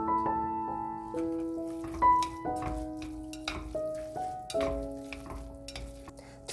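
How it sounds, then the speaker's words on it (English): Jjapaguri noodles with beef and olive oil are stirred in a pan off the heat, a soft wet sizzle and sticky mixing sounds with utensil taps, heard under steady background music without talking. "add olive oil from 짜파게티 and stir well"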